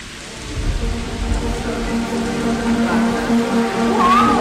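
Thunderstorm with heavy rain heard from inside a small cabin in Norway, a loud steady downpour with low rumbling, a faint tonal hum running through, and a rising whine near the end.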